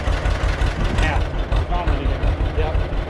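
A 1945 John Deere B tractor engine runs loud and close with a steady rumbling, thumping rhythm, and voices talk over it.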